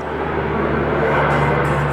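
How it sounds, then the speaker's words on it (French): A loud, steady roar of an airplane overhead, a broad rumbling drone that holds constant for the whole moment. "qu'est-ce que c'est que ces avions qui passent?"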